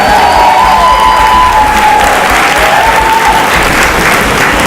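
A crowd at a Women for Abrams election event bursts into loud, sustained applause with cheering and a high whistle, dense, constant and very close throughout.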